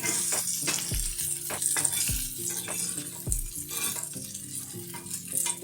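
Salmon fillet panfries in a non-stick pan with a dense close sizzle, while a metal utensil stirs and scrapes in a few distinct strokes, no talking.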